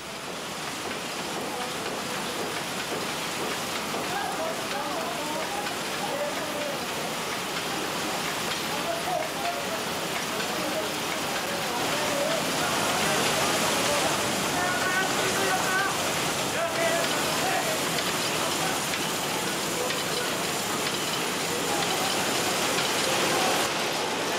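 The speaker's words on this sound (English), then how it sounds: "The unwinding of the cocoons is done on antiquated machinery." Antiquated silk-reeling machinery in Kashmir unwinds boiled silk cocoons with a continuous dense mechanical rattle and whir that stays loud and even throughout, thickening slightly partway through.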